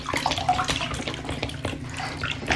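Water pours steadily from a tap into a bubble bath, a continuous close splashing rush with small bubbly gurgles and no voices.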